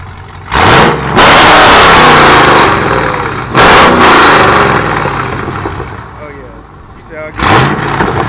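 A Dodge Charger R/T with aftermarket headers revs hard in repeated loud bursts between stretches of rough idle, close by, with voices talking over the engine.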